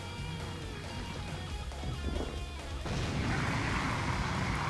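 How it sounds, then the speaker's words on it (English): Bombs blowing up in the Hyrule Warriors video game, a dense, continuous rumble of booming blasts that grows louder and rougher partway through, with no talking. "let's use the bombs we just got."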